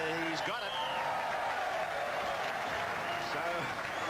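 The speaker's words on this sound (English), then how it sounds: "the crowd cheering Port Moresby as they get on the board" A crowd at a 1986 rugby league cup match in Papua New Guinea cheers and applauds continuously at a moderate distance, while a commentator talks over it.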